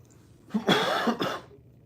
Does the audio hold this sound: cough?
yes